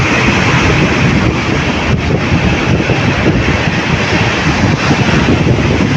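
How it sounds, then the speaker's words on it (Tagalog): Very strong sea waves crash and roar continuously with heavy wind buffeting the microphone, a loud, dense, unbroken wash of surf and gusts with no voices. "sobrang lakas ng alon."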